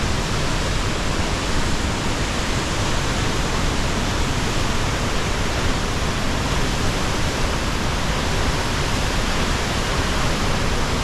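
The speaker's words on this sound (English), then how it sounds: "we're at waterfall number 2, Agua Saban River Gorge waterfall." A roaring waterfall in the Agua Saban River Gorge near Lake Superior, heard as a steady, loud, dense broadband rush filling the whole clip without pause, no voices present.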